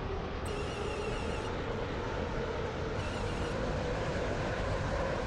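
A Class 360 train running through the Stepford line in a video game, a steady rumbling rail drone with wheel and track noise, constant and fairly quiet throughout.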